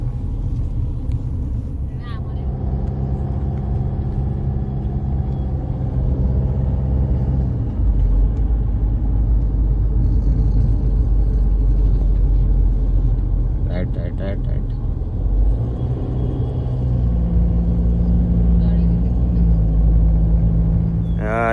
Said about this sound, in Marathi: गाडी चालू आहे.